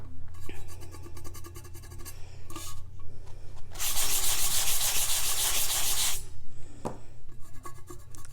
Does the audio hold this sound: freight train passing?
no